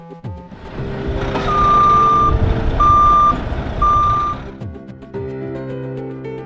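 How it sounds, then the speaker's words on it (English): A packer garbage truck on a cardboard recycling route sounds three evenly spaced, piercing reversing beeps over its loud, rumbling diesel engine, which idles on before and after the beeping. "he gets his Packer truck warmed up and ready for a full day on the road."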